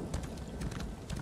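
Hooves of a summoned horse in a video game clip-clopping in a quick, even trot over a steady background hum, brief and moderately close.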